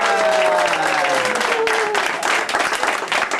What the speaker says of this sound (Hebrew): ולמספר 5, מחיאות כפיים ליהודי.